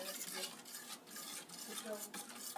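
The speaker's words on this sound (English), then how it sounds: "now that you got your ingredients, you gotta mix this really well." Apple fritter batter with sour cream being stirred in a bowl, a continuous quiet wet scraping with rhythmic strokes of a utensil against the dish, close and alone.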